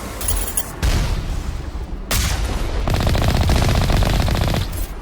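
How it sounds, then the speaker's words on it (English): Turret gunfire in the video game Mass Effect: bursts of rapid automatic shots with booming impacts, loud and close, several volleys separated by short pauses. "Oh, I see the one that's firing at me now."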